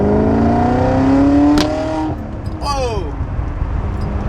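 A stripped-down BMW accelerates hard in second gear, its engine note rising loudly and close before easing off, followed by a second brief climbing whine.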